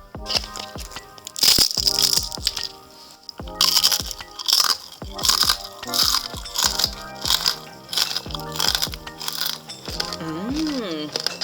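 Crispy eggplant chips being bitten and chewed close up, sharp loud crunches repeating in bursts, with a person talking between bites.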